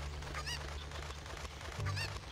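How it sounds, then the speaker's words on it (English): Cucco chicken in Zelda: Ocarina of Time gives two short, bright honking clucks about a second apart over a steady low game drone. "Yay! Got the chicken."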